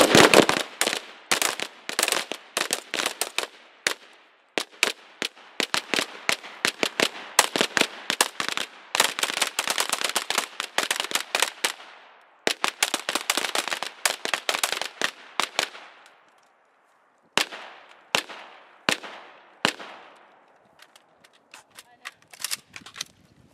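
Carbine gunfire at an outdoor shooting class: rapid bursts of sharp shots from several rifles, dense and loud at first, then thinning to scattered single shots with short pauses between strings.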